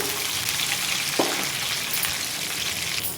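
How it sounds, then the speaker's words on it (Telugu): Dry red chillies and slit green chillies fry in oil in a pan, giving a loud, steady sizzle with a brief stirring scrape, close up and uninterrupted by talk. "మధ్యకి చీల్చి ఇలా వేసుకొని ఫ్రై చేసుకోవాలి."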